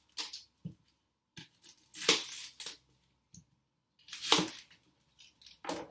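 A knife cutting the ends off an onion in a home kitchen, a few crisp, close slicing and tapping sounds in short bursts separated by quiet pauses.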